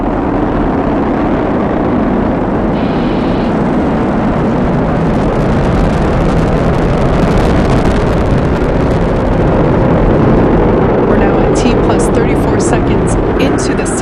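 A SpaceX Falcon 9 rocket carrying a Dragon crew capsule lifts off on its nine Merlin 1D first-stage engines, producing a loud, continuous broadband roar that holds steady throughout and never drops away.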